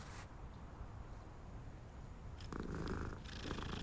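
A cat in the game Hogwarts Legacy purrs softly while being petted, a low, steady rumble that is quiet and continuous, with a brief brighter rustle near the end and no talking.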